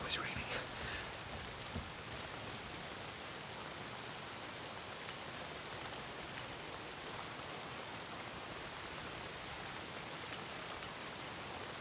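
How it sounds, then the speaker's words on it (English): Steady rain falls continuously in the video game Days Gone, a dense hiss of drops pattering on surfaces, even and unbroken throughout. "Why is it always raining?"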